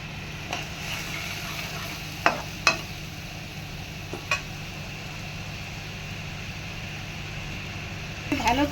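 Masoor lentil fritter curry spices being stir-fried in a pan give a steady broadband sizzle, with a handful of sharp utensil scrapes and clinks at irregular moments and a busier clatter of stirring near the end.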